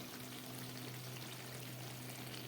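A spoonful of ghee goes into a finished young-jackfruit curry cooked with katla fish and fish head, giving a close, steady hiss and sizzle with no pause.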